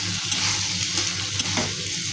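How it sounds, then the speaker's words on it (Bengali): Ground cumin sizzling and being stir-fried in a pan, a steady close crackling hiss with occasional scrapes of the spoon. "এক চামচি জিরের গুঁড়ো দিলাম। এটা দিয়ে কষিয়ে নিতে হবে।"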